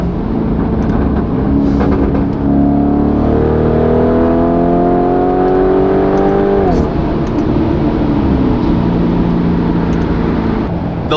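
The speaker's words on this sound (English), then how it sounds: "I was gonna do one pull to go onto the freeway because apparently this car has upgraded turbos" A Lamborghini SUV with upgraded turbos accelerates hard onto a freeway, its engine note rising loud through the gears in a long pull, a brief drop at a shift, then settling into a steady cruise drone heard from inside the cabin.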